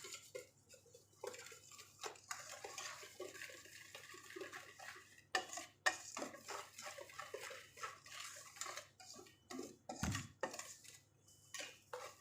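Banana cake batter is stirred in a bowl, with irregular clinks and scrapes of a utensil against the bowl, fairly close and uneven in rhythm.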